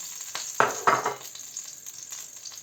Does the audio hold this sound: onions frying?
yes